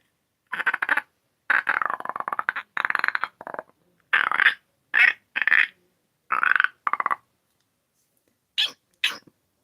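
A person's voice imitating bird calls: a string of short chirping, squawking bursts in irregular bursts, close and fairly loud, with brief pauses between them and two sharp high calls near the end.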